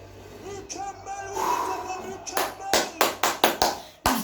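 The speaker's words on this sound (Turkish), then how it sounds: "Ayakta alkışlayacağım ben ayakta" A football fan watching a Kasımpaşa vs Galatasaray match claps his hands for a goal, about eight sharp, close claps in an uneven run following excited shouting.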